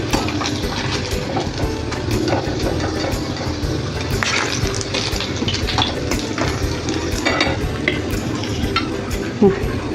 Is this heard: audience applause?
no